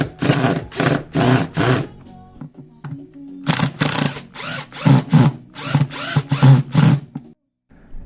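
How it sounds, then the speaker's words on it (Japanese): An impact driver spins against a Phillips bolt on a scooter's body cover during service, in repeated loud buzzing bursts of about half a second each, with a short quiet gap in the middle. "インパクトでこのプラスのボルトを取ろうと思ってたんですけど、ずーっと回るんですけど"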